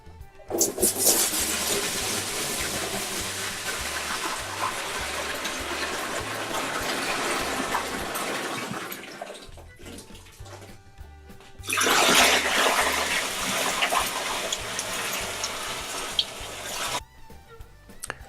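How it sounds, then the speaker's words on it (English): Water gushes from a hose into a 55-gallon drum holding a sugar wash for moonshine, a loud steady rushing that cuts off briefly midway and then resumes strongly before stopping near the end. "I'll add 2 of these buckets and then just fill the rest up with water"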